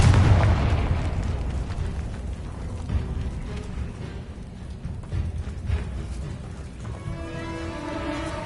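A Confringo fire spell blast in Hogwarts Legacy: one loud, booming explosion at the start, then a long rumbling decay with crackles, ending in a faint shimmering tone.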